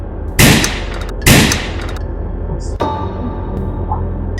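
Gunshots in a Nigerian film scene: two loud, sharp blasts about a second apart, then a third, smaller crack, with a low background hum between them.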